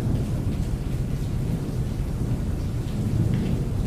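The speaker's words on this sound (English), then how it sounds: "it starts raining." Heavy rain pours outside a truck with low rumbling thunder, a dense, steady wash of drops and a deep roll that fill the whole stretch with no voices.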